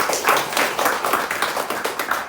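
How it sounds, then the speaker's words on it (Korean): A church congregation claps together in celebration at a Sunday morning service, a steady patter of hands filling the room at moderate loudness with no talking over it. "우리 축하의 박수를 하겠습니다."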